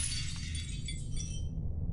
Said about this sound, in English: The sound of the shattering echoed through the silent reaches of the house.